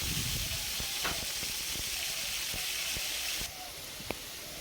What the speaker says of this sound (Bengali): দেখো আমার চিকেনগুলো ভাজা হয়ে গেছে।